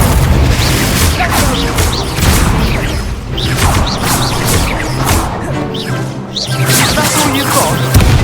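Repeated fiery blasts of the Confringo spell in the Hogwarts Legacy video game hit in quick succession, loud booms and crashes with whooshes between them amid chaotic combat effects.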